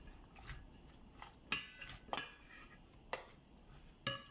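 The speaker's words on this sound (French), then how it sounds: "Donc on mélange." Leeks and other ingredients are stirred in a bowl, with soft scraping and several sharp utensil clinks against the bowl's side, fairly faint with no speech.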